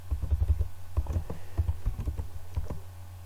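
Bursts of quick keystrokes on a computer keyboard while product details are entered into point-of-sale inventory software for carpets and curtains, clustered taps with short pauses between them.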